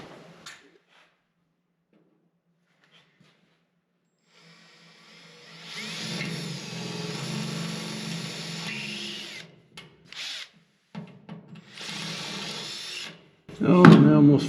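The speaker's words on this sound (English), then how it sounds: "I drill those holes out" Power drill boring holes in body panels of a 1955 Chevy Nomad during restoration, a sustained whirring run of several seconds followed by a few short bursts, fairly close, with no talk over it.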